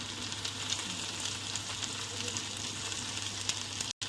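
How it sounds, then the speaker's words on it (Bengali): Spices for mutton kosha sauté in a pan with a continuous soft, close sizzle and faint stirring. The level stays steady and fairly quiet, then drops out briefly just before the end. "মশলা দিয়ে একদম সুন্দর কষানো হচ্ছে, দেখো।"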